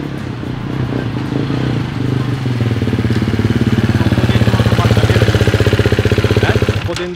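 A new enduro motorcycle's single engine runs close by with a rapid, regular pulsing thump, growing louder and more even as it revs up midway, then dropping off with a sharp click at the end.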